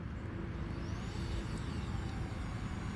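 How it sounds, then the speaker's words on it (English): An OnagoFly 1Plus drone spools its rotors and lifts off in auto takeoff, a steady close whir with a broad rushing hiss and faint rising whine held evenly throughout. "And auto takeoff again."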